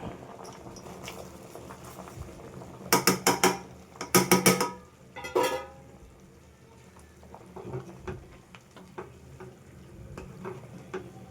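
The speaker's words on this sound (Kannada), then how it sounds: "ಹಾಗೆ ಕುದೀತಾ ಇದೆ" A pot of prawn sambar simmers and bubbles softly, with a cluster of louder clattering, stirring-like bursts partway through over a low, steady background.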